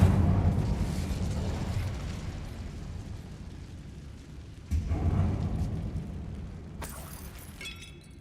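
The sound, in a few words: Incendiary spell explosion in the video game Hogwarts Legacy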